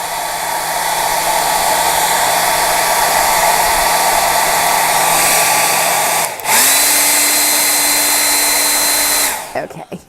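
Hair dryer blowing steadily on wet paint on a painted ark artwork, a loud constant whir that dips and shifts pitch briefly near the middle, then cuts off just before the end.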